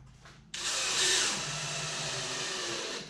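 A power drill whirs up abruptly and runs steadily, driving screws into a wooden gate frame built from a Home Depot adjustable gate frame kit, loud and close with no speech.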